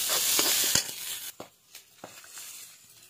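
Onion and raw green peas fry in a pan over low heat, a soft sizzle broken by a few scraping stirs, loudest early on and then easing into quieter, intermittent crackle.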